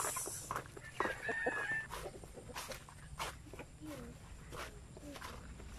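Farm chickens cluck in short, repeated calls that are fairly faint over background noise during morning feeding chores, with people talking nearby.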